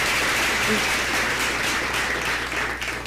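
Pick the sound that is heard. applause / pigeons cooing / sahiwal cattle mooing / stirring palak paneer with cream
applause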